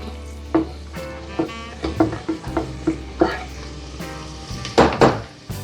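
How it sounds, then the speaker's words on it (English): Onions and celery drop into hot butter in a pot, with clanking utensil knocks and scraping stirs over a soft, steady sizzle, close and fairly loud. "First thing we're going to put in is the onions and the celery."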